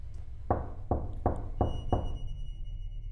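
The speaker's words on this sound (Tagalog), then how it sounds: "nakarinig si Suzette ng marahang katok mula sa pinto" Five gentle, evenly spaced knocks on a door, close and distinct, followed by a faint high ringing tone that lingers as a sound effect.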